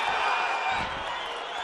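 Spectators at an MMA fight between Ibragim Magomedov and Umar Gaisumov keep up a continuous, dense crowd roar, loud and steady with faint cheering mixed in.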